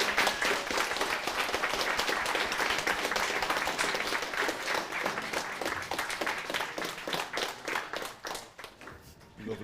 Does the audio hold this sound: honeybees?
no